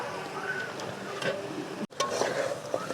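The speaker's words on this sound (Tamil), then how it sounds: "இப்போ நம்ம அந்த மசாலா எல்லா நண்டுலேயும் படுற மாதிரி மசாலாவை நல்லா பிரட்டி விட்டுக்கலாம்" Crab being turned in thick masala gravy in a pan, a continuous soft scraping and sizzling texture with a few light clacks of utensil against the pan, steady and close.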